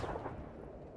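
A grenade goes off in the military shooter Arma 3 with a single loud, close blast whose rumble rolls away over the following second, with no voices.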